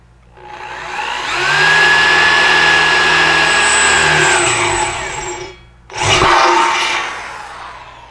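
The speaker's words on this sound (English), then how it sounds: "So let's drill that pilot hole." A power drill whirs up to a steady high-pitched spin for several seconds, stops briefly, then whines again as it bites into a beer keg, drilling a pilot hole.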